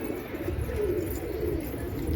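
Pigeons coo softly in a low, rolling murmur against quiet background noise.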